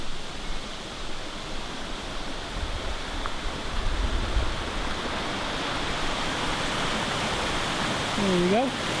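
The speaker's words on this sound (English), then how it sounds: "Back to our waterfall." A waterfall runs into a lake, giving a steady, broad rushing hiss that stays even and continuous throughout, moderately near and fairly soft.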